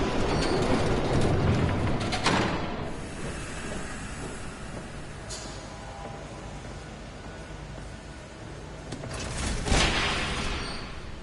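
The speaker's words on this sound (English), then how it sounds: "There's a train coming. Take cover." A train in the video game Batman: The Telltale Series rumbles past with a broad rushing roar and a few sharp metallic clatters, steady for the whole stretch and swelling again near the end.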